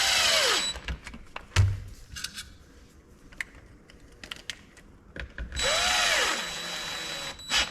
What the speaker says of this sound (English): I'm not over tightening these with the drill.